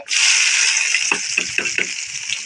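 Onions hit hot oil in a pan right after mustard seeds for a village-style mushroom dish, giving a steady loud sizzle with a few stirring scrapes near the end, no voices.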